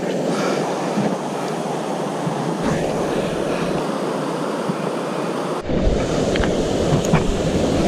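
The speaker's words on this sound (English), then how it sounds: "Look at this beautiful waterfall." A steady, loud broadband rush of falling water from a waterfall beside a deep mountain fishing hole, continuous and close, with some wind buffeting and no talking.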